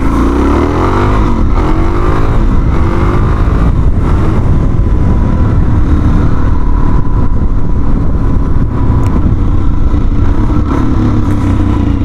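A 2019 Suzuki DRZ 400 motorcycle under way, its single-cylinder engine droning steadily and loud alongside constant wind rush, with no speech over it.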